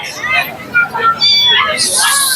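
Kittens at a pet market mew in a series of short, high, rising cries amid people talking and general crowd chatter.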